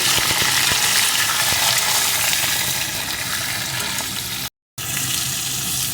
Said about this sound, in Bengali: এখন এর ভিতরে আমি কুমড়োর টুকরোগুলোকে দিয়ে দেবো